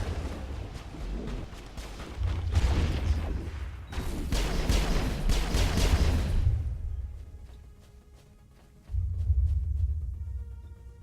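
Gunfire from the Mass Effect video game on the planet Ilos, dense loud bursts of shots and explosions in two long waves, with a quieter pause between them and another burst near the end.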